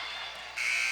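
A basketball game buzzer sounds at the end of play, a harsh electronic tone that swells louder partway through the short moment.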